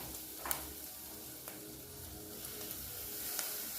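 Garlic frying in a pan for leftover-chester and potato croquettes, a faint, steady sizzle with a few soft clicks of stirring, heard alone at low level.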